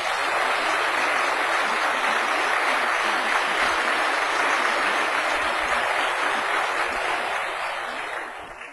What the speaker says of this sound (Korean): 어디 박수 한번 쳐드립시다